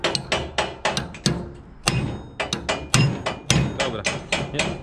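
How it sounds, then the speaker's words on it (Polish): Heavy hammer blows on metal while dismantling the header drive of a Bizon Rekord combine harvester: about fifteen loud, close strikes in an uneven rhythm, with no talking. "Piotruś, większy młotek."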